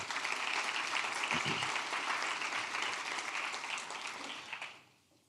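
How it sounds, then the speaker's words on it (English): A breakfast crowd at a charity kick-off event at Salisbury University applauds loudly and steadily, the clapping fading out near the end with a brief spoken word underneath. "Please, a round of applause for Salisbury."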